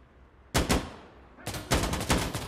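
Two short bursts of video game gunfire crack close and loud, each a quick double or triple volley, separated by about a second of quieter ambience.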